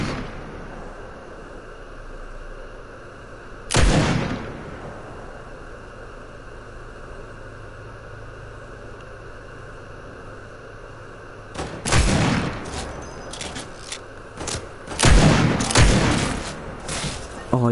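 Gunfire in a PS4 video game comes as a single sharp blast early on, then after a lull a dense cluster of rapid shots and booms, loud over a steady hiss of background noise.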